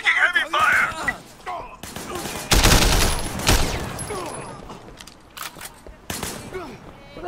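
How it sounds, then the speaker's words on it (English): Heavy gunfire in the Sleeping Dogs action game: loud crackling volleys and impacts surge in the middle, with someone talking over and between the shots. "We're taking heavy fire!"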